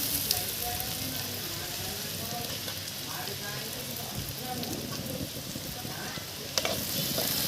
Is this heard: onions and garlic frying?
yes